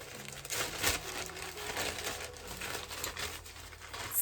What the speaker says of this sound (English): I'm gonna try to just rip it open. Really rip it open.